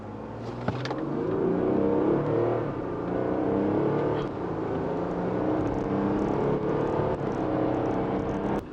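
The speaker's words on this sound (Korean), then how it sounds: "그렇게 요란하지 않게 가속하네요" A Volkswagen Touareg diesel SUV with 286 horsepower, driven in sport mode, pulls away from a standstill under full acceleration. Its engine gives a steady, fairly restrained roar that builds smoothly over several seconds, close by and without speech.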